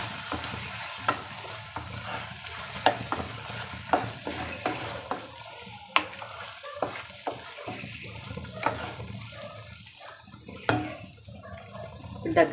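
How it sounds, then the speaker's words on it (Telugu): Green peas and potatoes cooking in oil for an aloo curry, with a steady sizzle and frying hiss broken by repeated scrapes and clinks of a spoon stirring the pan, heard close up with no talking. "టూ 3 మినిట్స్ ఆయిల్లో మంచిగా మగ్గనియాలండి వీటిని."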